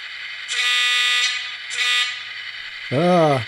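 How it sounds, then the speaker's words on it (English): Horn of an HO scale Atlas EMD SD24 model diesel locomotive sounding three times: two sustained blasts, then a shorter lower one, loud and close with quiet between. "That's not the same horn that's on the locomotive."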